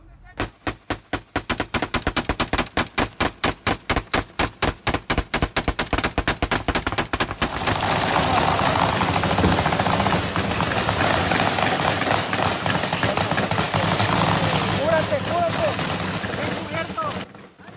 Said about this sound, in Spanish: dos grupos armados se enfrentaron a tiros en la comunidad de Tacatzcuaro